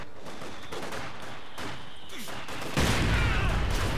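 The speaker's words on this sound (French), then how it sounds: "Ils ouvrent le feu sur nous." Heavy machine gun fire in the World War II strategy game Company of Heroes 2, a steady crackle of shots that swells into a louder, denser burst near the end, with faint game voices underneath.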